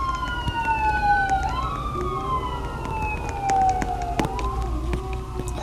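An ambulance siren passes at moderate distance with its wailing, gliding tone falling in pitch, while a dog howls along with it in long wavering notes; a few sharp clicks are also heard.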